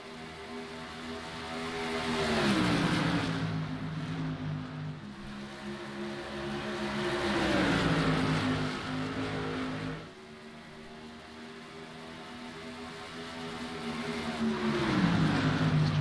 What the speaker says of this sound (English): These guys are really racing hard here at Iowa Speedway.